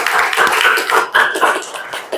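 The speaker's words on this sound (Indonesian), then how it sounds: "Tepuk tangan buat kita semuanya." Classroom students clapping hands together at the close of a lesson, a brief burst of dense, fairly loud clapping lasting a couple of seconds with no talk over it.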